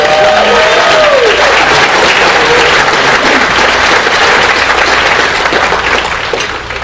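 A large crowd at a state political convention claps and cheers in loud, sustained applause, with a brief voice over the top at the start and a slight fade near the end.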